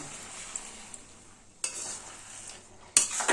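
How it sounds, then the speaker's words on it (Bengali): Milk is being stirred into roasted rice flour in a bowl for a Bengali rice sweet, giving soft scraping and swishing spoon strokes that come in short bursts, a louder stir near the end, with no talking. "এবার দুধটা খুব ভালোভাবে মিশিয়ে দেব"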